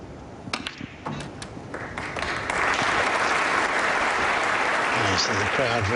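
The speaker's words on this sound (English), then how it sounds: "Give him a nice round of applause" Audience applause breaks out for a snooker player at a frame-winning moment, scattered claps building into steady, loud clapping from a crowd, with commentary voices heard underneath.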